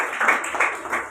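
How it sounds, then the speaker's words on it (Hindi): Audience applause at an interview event, a short burst of clapping from a gathered crowd, fairly loud and close, with no talk over it. "आप और हम सब तालियां बजाकर इसमें शामिल होंगे।"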